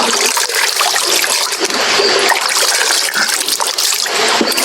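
Water pours from a small dam feeding a water wheel, a loud, continuous, close rushing and splashing flow that holds steady throughout.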